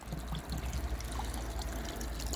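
Water from a kitchen drain running through a PVC waste pipe, a steady low trickling flow with gurgles, faint and continuous, no speech.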